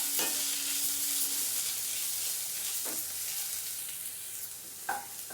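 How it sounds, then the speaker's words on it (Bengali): Ginger and garlic fry in a pan for an aloo chop filling, giving a continuous close sizzle with a few scraping stirs of a spoon against the pan. "আদা রসুনটা দিয়ে একটু ভেজে নেবো"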